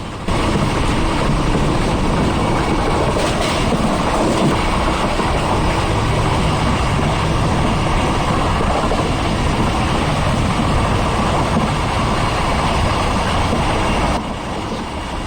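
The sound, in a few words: diesel-hauled passenger train passing at high speed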